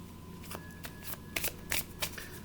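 Oracle cards being shuffled by hand during a tarot reading, a run of crisp riffling and slapping bursts that come close and fairly loud, with a faint steady tone humming underneath.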